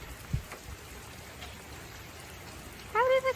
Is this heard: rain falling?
yes